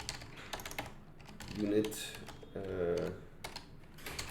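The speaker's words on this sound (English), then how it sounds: "we'll just type" Keys on a computer keyboard clatter in short bursts of quick taps, fairly close, with two stretches of voiced talk in between.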